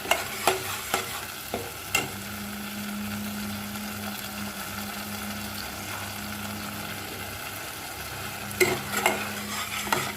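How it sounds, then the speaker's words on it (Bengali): Sesame paste sizzles and is stirred in a frying pan, a steady frying hiss with a low hum, broken by sharp clinks of a spatula against the pan at the start and near the end. "তিলটা দিয়ে একটু কষাতে হবে।"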